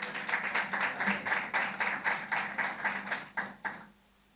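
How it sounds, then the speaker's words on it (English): Scattered audience clapping at a press briefing in Montego Bay, fairly quiet, with distinct rhythmic claps about every third of a second that taper off and stop near the end. "Give them a round of applause."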